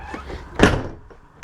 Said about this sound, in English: Pardon me while I close the door.